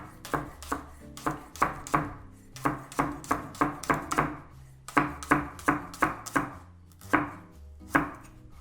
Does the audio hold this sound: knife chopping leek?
yes